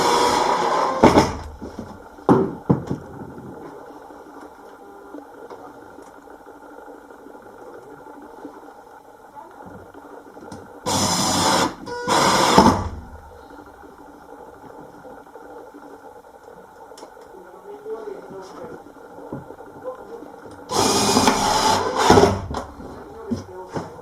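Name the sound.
driving screws into a narrowboat kitchen drawer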